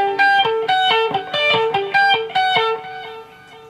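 Distorted electric guitar plays a repeating riff in the style of a rock song, based on another song's intro phrase, with about six punchy, evenly spaced picked note groups that ring out loud and close, then fade.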